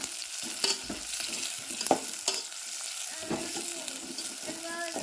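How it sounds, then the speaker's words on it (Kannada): Sliced onions frying in oil for pulao, with a soft sizzle and a spoon stirring and knocking against the pan now and then, close but fairly quiet, with no talking. "ಇವಾಗ ಉಳ್ಳಾಗಡ್ಡಿ ಚಂದ ಕೆಂಪಗಾಗುವಂಗೆ ಫ್ರೈ ಮಾಡ್ಕೊಬೇಕು"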